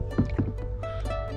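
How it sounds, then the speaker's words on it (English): Kayak paddle strokes splash and gurgle in the water on a Halong Bay cruise, close and rhythmic, with a steady engine-like hum underneath. "But I do like it when you paddle."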